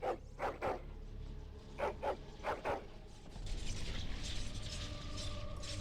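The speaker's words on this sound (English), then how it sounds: "It's a white wolf." A white wolf in the video game Dragon Age: Origins gives about half a dozen sharp, rhythmic barks in quick succession. Softer mechanical game ambience and whirring follow.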